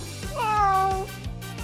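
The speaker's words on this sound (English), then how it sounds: "Is that a cat?" A cat gives a single drawn-out meow, clear and close, rising then falling over steady low background noise with faint rhythmic thumps.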